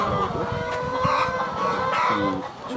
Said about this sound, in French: De l'autre côté, nous avons les poules qui sont âgées de 9 mois.